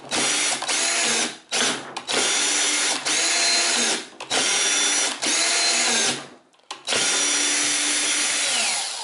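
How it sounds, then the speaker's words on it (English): A power drill set on low drives a self-tapping screw into a C-Beam actuator kit, running in about six short, loud whirring bursts separated by brief pauses as the screw is worked back and forth. "I'm just going to take the self-tapper and I'm going to, using my drill on low, I'm going to run it back and forth a few times"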